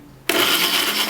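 A kitchen blender switches on abruptly after a quiet moment and runs at a loud, steady whir.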